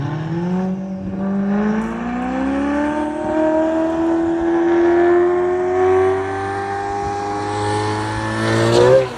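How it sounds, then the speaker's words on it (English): NASCAR race cars roaring right at the front edge of the track, a loud sustained engine howl that climbs in pitch and holds steady before a sharp surge as a car blasts past near the end. "This is what it sounds like to be at the very front next to NASCAR racers."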